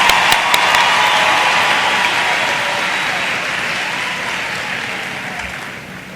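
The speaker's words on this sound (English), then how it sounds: "another round of applause for our wonderful UJ choir" A ceremony audience at a university academic opening and first-year welcome applauds the UJ choir, loud sustained clapping from a large crowd that slowly fades over several seconds.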